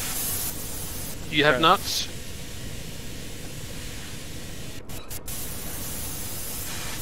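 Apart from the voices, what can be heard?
water leak spraying inside submarine in video game IronWolf VR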